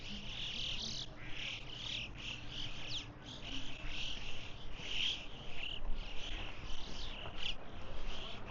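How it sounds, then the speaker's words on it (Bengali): Many birds calling at Grindelwald First in the Swiss Alps, a dense mix of repeated chirps and tweets over a steady insect-like trill, moderately close, with no speech. "এখানে কত শত শত পাখি, ডাক শুনতে পারো অবশ্যই আপনারা"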